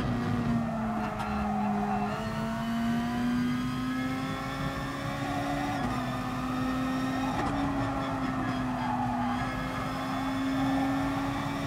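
Race car engines in Gran Turismo Sport, a steady high-pitched drone holding and shifting pitch through gear changes, with faint tire squeal and other cars around, no talking.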